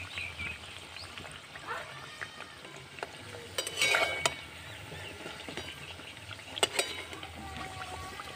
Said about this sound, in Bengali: তো হালকা আঁচে ভাজতে হবে মিষ্টিগুলো